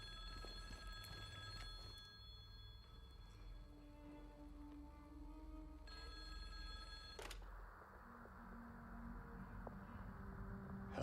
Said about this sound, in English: I think I need to answer the phone.